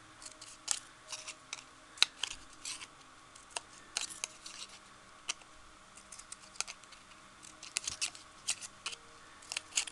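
Scissors snip a paper flower for a handmade card: a quiet, close run of small, irregular crisp cuts, some in quick clusters, with no voices.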